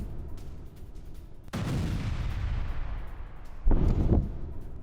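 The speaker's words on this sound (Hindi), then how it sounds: "कीव में 25 से ज्यादा जगहों पर धमाके हैं" Explosions from a missile attack on Kyiv: two heavy booms, the first followed by a long rolling rumble and the second a shorter, sharper blast, over constant low background noise.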